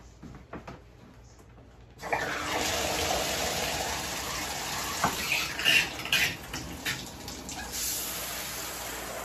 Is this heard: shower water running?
yes